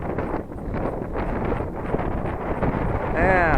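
Strong gusting wind buffets the microphone outdoors while a tiny brushless Eachine Mini P47 bubble-top model plane flies, a steady loud roar with a faint high whine rising near the end.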